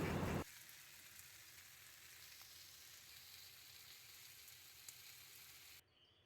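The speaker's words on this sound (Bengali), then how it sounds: "কড়াইয়ে তেল দিয়ে একটু সর্ষে ফোড়ন দিয়ে এই যে পাচনটা এখন গরম করে নিচ্ছি" Mustard seeds tempering in hot oil in a wok while pachan is reheated: a steady soft sizzle and crackle after a brief louder burst at the start, fading out near the end.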